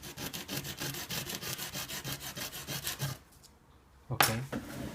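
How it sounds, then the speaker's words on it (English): Sandpaper rubs back and forth on a small Tamiya Mini 4WD propeller shaft part, a steady rhythmic scraping for about three seconds, then a pause and a brief louder burst of rubbing near the end. "So it's still too big, so I'm just gonna go ahead and keep sanding it."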